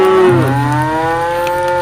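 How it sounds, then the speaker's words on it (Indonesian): A cow lows in a video game, a single long, loud moo that glides down in pitch, with rich harmonics and nothing else heard. "Sepertinya masih ada nih suara sapi."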